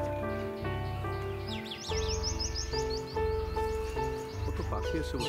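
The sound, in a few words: parakeet calls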